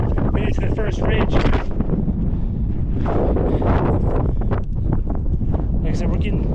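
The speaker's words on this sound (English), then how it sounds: "we're getting blasted by wind right now" Strong wind blasts across a mountain ridge on Carrauntoohill, roaring and buffeting the microphone in loud gusts while someone talks through it.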